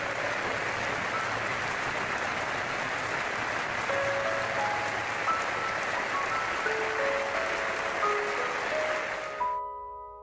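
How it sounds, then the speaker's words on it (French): Football crowd at Anfield applauding in tribute to Ronaldo, a dense, sustained wash of clapping from a large stadium audience that carries on for several seconds before cutting off abruptly. "This fan-led minutes applause"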